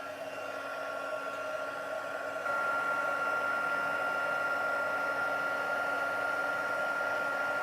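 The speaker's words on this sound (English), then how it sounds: "So I'm going to bring my heat tool in and just melt that powder." A steady, close whirring blast from a craft heat tool melting embossing powder runs without a break, growing slightly louder partway through, with no talking.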